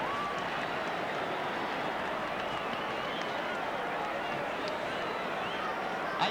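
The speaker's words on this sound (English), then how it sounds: "Listen to the crowd on that effort" A stadium crowd roars continuously at the 1981 WAFL Grand Final between South Fremantle and Claremont, a dense, distant wash of cheering that holds steady throughout with a commentator's voice over it.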